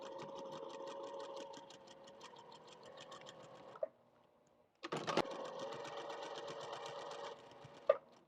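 A sewing machine runs in steady stitching bursts, sewing along a marked line on a cozy cup mug rug: a rapid mechanical chatter, a brief pause near the middle, then a second run, close and fairly quiet.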